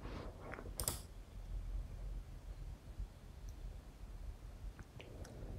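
Soft clicking keystrokes on a computer keyboard while a command is typed, a few sparse taps and one sharper click early on, faint and close against quiet room noise, no voices.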